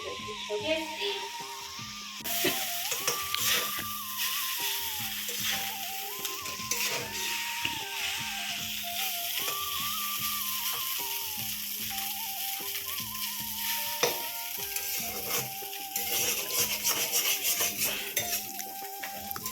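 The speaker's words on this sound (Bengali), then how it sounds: "সবজিগুলো ভাজা হচ্ছে" Vegetables frying for chowmein in a home kitchen pan, with steady sizzling and repeated clinks of a utensil stirring against the metal throughout, while a person talks over the cooking.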